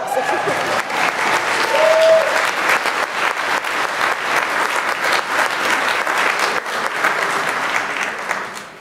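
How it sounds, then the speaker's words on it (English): Audience applause at a diocesan convention business meeting, a loud, full and sustained burst of many hands clapping together that continues evenly for about nine seconds before beginning to taper. "Now you can clap."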